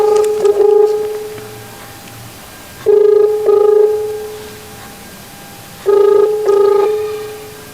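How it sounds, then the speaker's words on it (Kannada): Outgoing telephone call ringback tone, three loud bursts of paired electronic rings spaced about three seconds apart, heard alone and close with no talking. "ರಿಂಗ್ ಆಗ್ತದೆ, ಇರ್ತಾ ಇಲ್ಲ."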